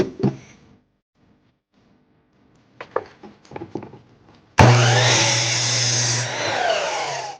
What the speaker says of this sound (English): we're going to cut this sharp piece off right here at 15 degrees